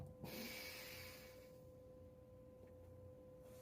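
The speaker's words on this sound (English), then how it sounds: "That's basically alternate nostril breathing. You can hear my nose is pretty clear." A single soft exhale through a clear nose during alternate nostril breathing, a breathy hiss that fades out over a couple of seconds in a quiet room.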